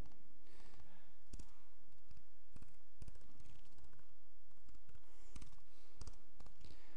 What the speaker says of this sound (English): I'm releasing the mouse. I'm releasing the click.